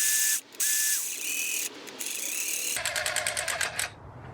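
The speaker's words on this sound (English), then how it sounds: "we're gonna put the top bolt back in" A ratchet tightening the top bolt on an Alta Redshift SM39 electric motorcycle's front fork, giving a close, loud run of rapid clicking pawl strokes after some brief mechanical clunks and squeaks, with no talk.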